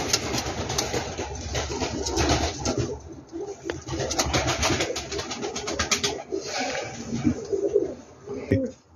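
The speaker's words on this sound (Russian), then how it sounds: "Молодой голубь." Uzbek pigeons coo in soft, repeated throaty bursts close by, overlapping with rustling, shuffling and occasional wing movement, with some talk heard among them.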